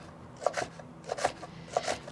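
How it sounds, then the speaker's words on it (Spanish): Knife slicing washed Swiss chard leaves on a cutting board, three brief clusters of crisp cuts spaced about half a second apart, close and fairly quiet, no talking. "Estas nada más pues las voy a rebanar."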